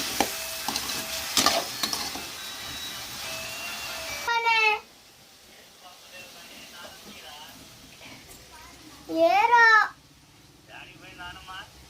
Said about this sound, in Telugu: మనకైతే ఒక పక్క బీరకాయ కూడా ఫ్రై అవుతూ ఉన్నాం.